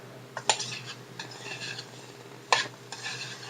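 A spoon scrapes and scoops buttered carrots out of a pan, giving two short clinking scrapes with a soft butter sizzle underneath, close up and fairly quiet.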